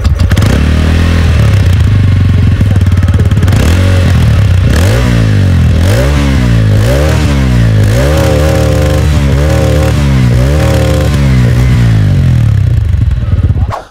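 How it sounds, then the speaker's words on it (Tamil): A 2025 TVS Ronin motorcycle fitted with an OBD2 sensor idles loudly and close by. The exhaust goes through a series of rhythmic revs that rise and fall in steady waves. The engine sound is heard alone with no talk over it. "இந்த தடவை இந்த OBD2 சென்சார் கம்பெனியோட வந்திருக்கக்கூடிய 2025 ரோனினோட எக்ஸாஸ்ட் நோட் எப்படி"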